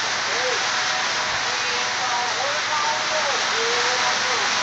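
Steady, dense hiss of rain falling outdoors in Bisbee, Arizona, continuous and fairly close, with faint voices murmuring beneath the downpour.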